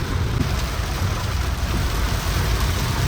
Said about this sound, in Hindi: विजिबिलिटी एकदम ज़ीरो हो चुकी है, बहुत तेज़ बारिश हो रही है।